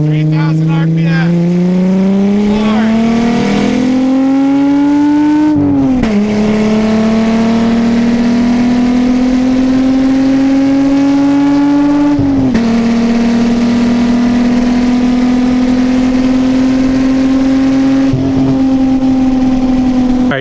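A Volkswagen VR engine roars loudly from inside the car, a steady droning exhaust climbing in pitch through gears with brief dips at each shift, sustained and close throughout.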